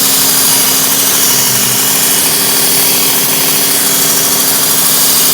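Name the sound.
Work Sharp Ken Onion electric sharpener sharpening a knife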